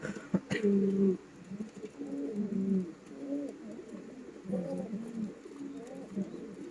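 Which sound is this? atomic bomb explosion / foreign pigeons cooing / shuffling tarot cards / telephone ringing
foreign pigeons cooing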